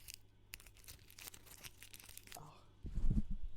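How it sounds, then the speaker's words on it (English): Paper being crinkled and folded close by, a run of dry crackling rustles that builds to a louder burst of crumpling near the end, with no voice over it. "I'm gonna crinkle this paper for you guys."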